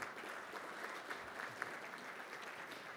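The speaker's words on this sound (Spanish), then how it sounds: "También un fuerte aplauso, por favor, para Juan Coronado." An audience at a global energy forum applauds steadily, a dense patter of clapping hands at moderate distance that holds even throughout.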